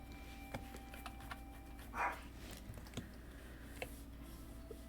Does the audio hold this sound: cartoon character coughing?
no